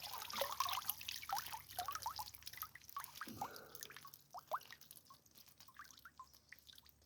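Water drips and trickles off a minnow trap pulled up from a Missouri creek, a quick run of small close splashes and patters with a brief pouring burst midway, no voices.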